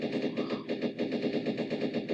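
Rapid automatic gunfire from a player shooting in Roblox, a fast even burst of repeated shots running throughout at moderate volume.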